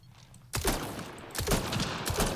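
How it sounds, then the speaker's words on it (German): Gunfire from an Asari weapon in the video game Mass Effect Andromeda, a sudden close burst of rapid repeated shots after a quiet start, loud and continuing in bursts. "Du hast einfach nur die Schüsse."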